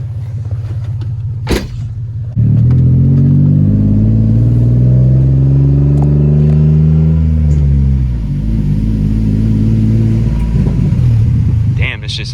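A car engine fitted with new headers idles roughly, then revs up loud and close for several seconds before settling back, with harsh uneven exhaust popping and crackling throughout the rumble.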